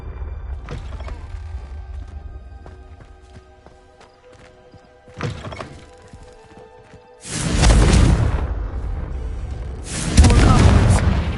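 Two heavy Confringo blast spells from Hogwarts Legacy burst in quick succession, each a loud broadband explosive whoosh with a rumbling tail, following quieter footsteps and ambient game sounds in a dusty, cobwebbed interior.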